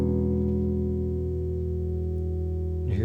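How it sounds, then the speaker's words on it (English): Bass guitar harmonics ringing with both pickups turned all the way up, a steady sustained chime of overtones held for several seconds before a brief shift at the end, no voices. "I play the harmonics with both pickups turned all the way up"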